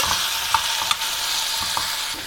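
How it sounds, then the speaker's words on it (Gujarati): Potatoes sauté in a pan with coriander-cumin powder and salt, giving a steady, continuous sizzle with occasional light clicks of stirring and no voices. "બટેટાને આપણે મસાલા સાથે સાતળીએ છીએ"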